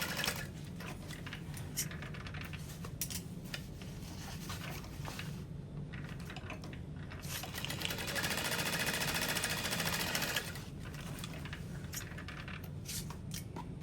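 A sewing machine runs steadily as it sews the side of a handbag shut, a busy close mechanical whir that is louder for a stretch in the middle and has no talking.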